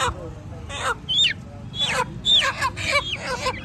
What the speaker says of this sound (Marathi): ह्या कोंबड्या आहेत ह्या पण कोंबड्याच आहेत